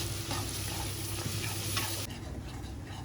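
Onions frying in ghee for a degi aloo gosht curry, a steady dense sizzle with scraping stirs, continuous and close, softening slightly near the end.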